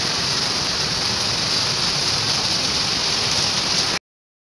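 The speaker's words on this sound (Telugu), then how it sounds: "వర్షం అయితే అసలు ఆగుతలేదు." Heavy, unbroken rain pours down in Kochi, Kerala, a steady dense hiss of water that holds at the same loudness for about four seconds before cutting off abruptly, with no voices.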